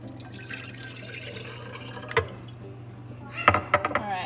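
Water runs and splashes into a kettle with clinks and drips, a soft hum underneath, and louder pouring toward the end.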